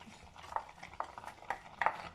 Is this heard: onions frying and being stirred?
yes